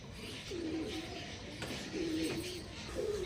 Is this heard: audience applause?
no